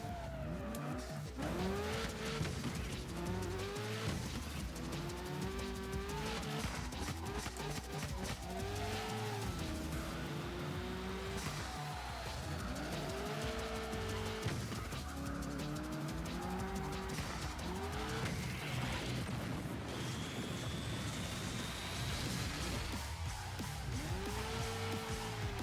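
A car drifts through the curves of a mountain track in a racing video game, its tires squealing in repeated long sweeping howls over a constant engine roar, no talking.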